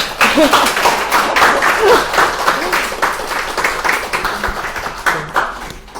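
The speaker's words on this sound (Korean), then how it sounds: "큰 박수 한번 부탁드려도 될까요?" A book-launch talk audience applauds steadily, a dense wash of many hands clapping close by for several seconds, thinning slightly toward the end.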